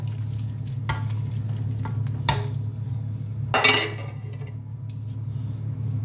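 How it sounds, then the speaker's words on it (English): Smoked mackerel and boned fish being stirred into ogbono soup in a pot: steady close clinks and scrapes of a spoon against the pot over a continuous low simmer, with one louder scraping splash near the middle. "At this time I'll just add the boned fish, the smoked mackerel, stir together."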